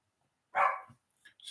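A single close dog bark sounds sharply out of near silence, followed by a few fainter, softer yips or whines.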